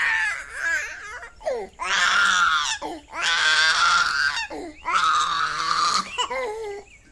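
A hungry baby girl wails in three long, rising-and-falling bursts separated by brief pauses for breath, loud and close.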